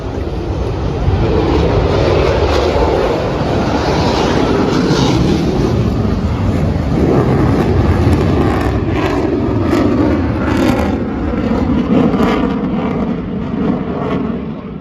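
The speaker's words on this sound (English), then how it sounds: "Big P-47 looking great out." A big P-47 warplane passes low at an air show with a loud, sustained, roaring drone that stays near throughout, rich in broad rumble and hiss and with no talk.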